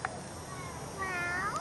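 A child imitates a cat with a short, drawn-out meow in a quiet room indoors, a single close vocal cry with a rising and falling pitch.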